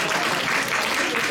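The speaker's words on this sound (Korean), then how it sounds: "박수 치려고 크게 쳤죠." An audience applauding at a welfare-centre anniversary seminar, a dense, even patter of many hands clapping close by for a short burst.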